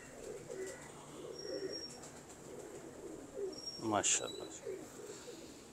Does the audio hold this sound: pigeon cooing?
yes